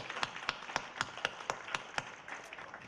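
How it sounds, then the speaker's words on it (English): At a grand opening celebration for the Loop at Mattapan Station, an audience claps in a steady, rhythmic beat, roughly four claps per second, moderately faint and evenly spaced, with a light crowd murmur underneath. "Give yourselves a hand. Clap for yourselves."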